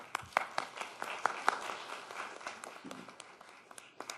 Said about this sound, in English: I would like to give you all a round of applause if you'd let me.